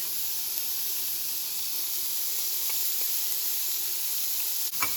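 Celery, onion and garlic sizzle in a soup pot, a steady close hiss of frying with faint scattered pops and a brief clink near the end, no voices.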